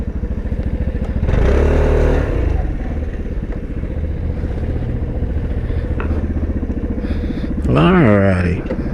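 A GTS motorbike's engine idles steadily while the bike is turned around, swelling into louder revs around the second mark and again near the end, with faint voices underneath.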